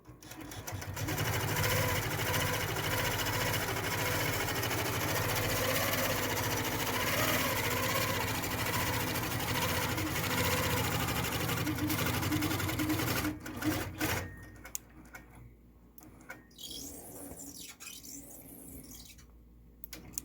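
A Handi Quilter Fusion quilting machine runs steadily at close range while stitching a table runner, a continuous fast mechanical whir. It stops abruptly near the end, leaving quieter handling noises.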